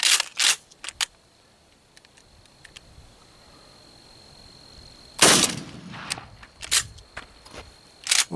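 A 12 gauge Mossberg 3-inch shotgun loaded with heavy metal number 2 shot fires at a pattern board 40 yards away, with two sharp, loud blasts several seconds apart, each followed by fainter clicks and handling noises.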